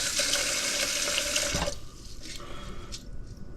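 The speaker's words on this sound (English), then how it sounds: "Here's the most difficult part of rice in a rice cooker: adding the right amount of water." Water pours steadily into a rice cooker pot while rice is being prepared for a goat curry, a close continuous splashing stream that cuts off partway through, leaving quieter trickles and faint drips.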